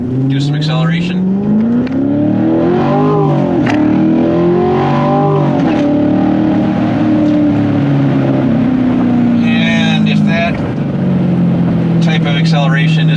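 A Corvette C7 fitted with an MRT QuadFlow axle-back exhaust accelerates hard, its loud engine rising and falling through gears in a deep, throaty roar, with someone talking over it.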